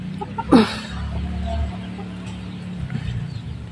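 Chickens cluck near a garden, a brief sharp squawk early on followed by low, steady murmuring clucks at moderate volume, with no talking.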